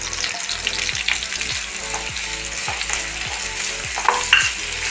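Curry leaves crackle and sizzle in hot oil while a spoon scrapes and stirs in quick repeated strokes, a close, busy frying sound with bright spits and pops over a continuous hiss, no talking.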